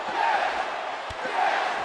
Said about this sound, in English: And the crowd cheering along.